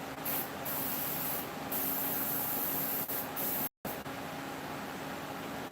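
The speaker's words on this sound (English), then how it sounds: "I basically wanted to do this live video to show you guys clean the airbrush" A Paasche H airbrush sprays steadily during cleaning, a loud continuous hiss with brief pulses, close by, cutting out for a split second before resuming, no talk.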